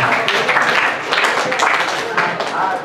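Children in a school audience clap together in a brief, dense burst of applause, with voices chattering over it.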